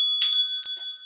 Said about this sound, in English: We'll call in spirit with a little bit of wind chime time